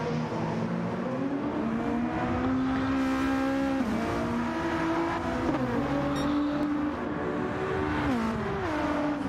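A video-game race car revs through gears, its engine note dropping on a downshift and then climbing again under hard acceleration, loud and continuous for the whole stretch.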